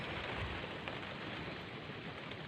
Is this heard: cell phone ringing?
no